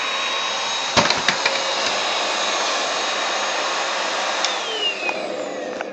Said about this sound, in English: Say bye-bye, vacuum.